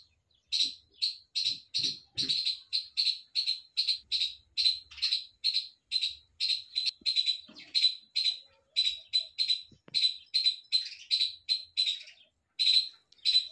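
Small birds chirp on a shaded terrace with trees and a dish of water. A long, steady run of quick, bright, repeated chirps stays close and lively for the whole stretch, with a few faint low knocks underneath.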